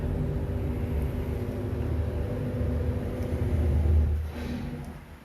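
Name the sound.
Dodge Challenger 6.4 liter Scat Pack Hemi engine rumbling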